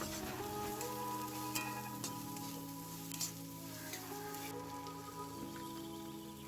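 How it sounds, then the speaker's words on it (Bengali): Onions frying in oil for ghugni give a steady, fairly quiet sizzle that runs throughout, with a few brief crackles and a sustained low hum underneath. "পেঁয়াজ হালকা লাল করে ভেজে নেব।"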